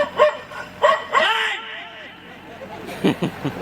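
Several short dog barks and yips in quick bursts, close by, with people talking in the background.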